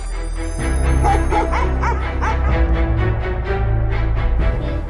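Several dogs at a barking contest on a televised animal show let out loud, repeated barks and yips, with whimpering between them, dense and close over steady crowd and hall noise.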